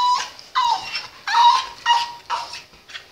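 Dogs whimper and yip in a string of short, high, nasal bursts, close and fairly loud, with brief pauses between the cries.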